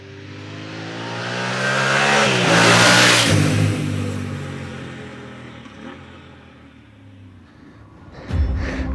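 A Yamaha Ténéré 700 adventure motorcycle's engine winds up under throttle, climbing to a loud, close peak, then easing off and fading before a short sharp blip near the end, with no talking.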